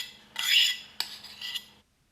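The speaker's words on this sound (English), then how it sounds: "mix until your butter and sugar is light and fluffy and they're mixed together." Butter is mixed into beetroot and chocolate in a bowl, giving two or three short scraping, clinking strokes of a utensil against the bowl, close and clear, ending in silence.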